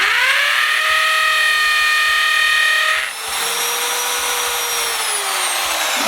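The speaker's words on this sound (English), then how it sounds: "And just kind of drill through it just to get it placed." A power drill bores through a flooring transition strip into concrete, a loud close whine that runs steadily, dips briefly midway, then resumes at a slightly shifted pitch until the end, with no talking.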